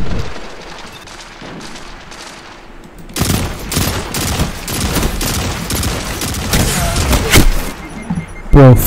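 Rapid bursts of automatic gunfire in the video game Destiny 2 begin after a quieter stretch, loud and sustained with dense repeated shots, ending in a louder final burst.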